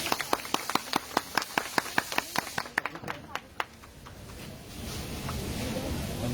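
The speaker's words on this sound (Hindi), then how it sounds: "तो एक बार सभी मिलकर जोरदार तालियां बजा दें।" Claps in a steady rhythm at a car handover ceremony for a new top-model Honda City, sharp and fairly close for about three seconds, then fading into a murmur of room noise and people talking.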